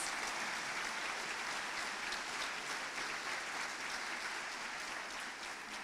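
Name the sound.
audience applause at graduation ceremony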